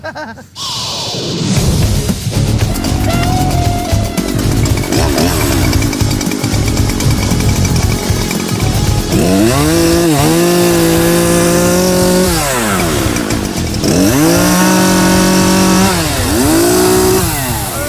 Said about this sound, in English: So Finnegan broke the chainsaw.